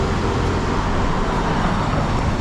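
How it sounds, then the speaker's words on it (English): Dense traffic on a big main road in Macau, near Horta e Costa Street: a constant, loud wash of engine and tire noise with no pauses and no one speaking. "And then now we're into the big main road right there."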